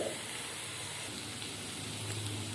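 Sliced potatoes and onions fry in hot oil, giving a steady, close sizzling hiss that holds evenly for the whole stretch with no talking.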